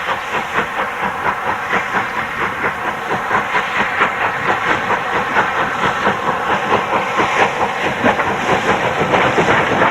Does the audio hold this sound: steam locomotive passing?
yes